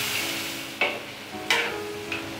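Sponge gourd (luffa) being stir-fried in a hot, oily wok after diced pork, scallion and starch, with a steady sizzle broken by three distinct scraping clatters of the spatula tossing the pieces.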